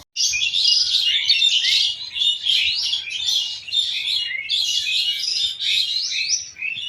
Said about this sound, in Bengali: সকালে উঠতে আই পাখির কিচিমিচি ডাক শুনলে ভালাই লাগে